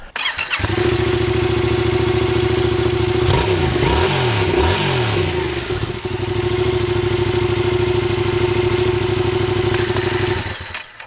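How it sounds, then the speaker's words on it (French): A 2018 Yamaha XSR700 motorcycle idles steadily close by, then gets a few quick throttle blips in the middle before settling back to a smooth, loud idle that cuts off near the end. "La moto a un beau son"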